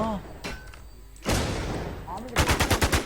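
Video game gunfire in an online survival shooter: a heavy thud, then a scattered shot or two, and finally a close, loud rapid burst of about eight evenly spaced shots, with voices in the background.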